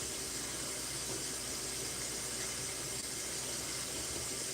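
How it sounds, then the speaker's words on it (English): Water runs steadily from a tap, a loud, continuous broadband rush and hiss that fills the whole stretch without pause and with no voices over it. "when I have this water running, it be really loud on the video"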